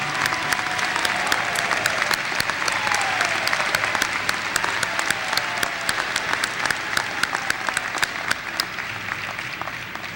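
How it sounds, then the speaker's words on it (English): A commencement crowd claps for graduates' families in sustained, dense applause that fills the hall, steady and loud throughout with individual claps popping out of the wash. "Let's give them a round of applause, please."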